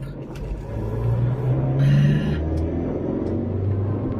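A car drives home through city traffic over the river Amstel, a steady engine rumble and road noise from inside the cabin with a brief rise in pitch as it accelerates.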